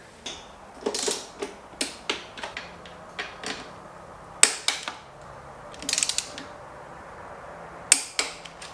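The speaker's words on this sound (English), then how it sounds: "We're going to go 45 newton meters of torque on the front ones and 25 on the rear." Torque wrench tightening frame bolts on a KTM 790/890 adventure motorcycle in a garage, a run of quick sharp ratcheting clicks in short bursts with pauses, close and crisp with no talk.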